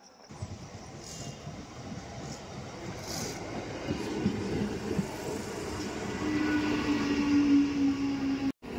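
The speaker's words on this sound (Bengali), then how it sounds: "তো ট্রেন আমাদের চলে এসছে, চলো এবার ট্রেনে উঠবো।" A Namkhana local train pulls into a station, a steady rumbling rail roar building over several seconds, with a sustained wheel squeal toward the end and station ambience throughout.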